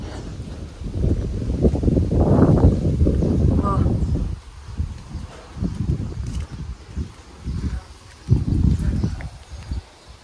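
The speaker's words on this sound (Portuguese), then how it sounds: "Tá ventando." Wind blows across dry farmland where cows are kept, buffeting the microphone with a heavy low rumble for the first few seconds, then in shorter gusts that come and go.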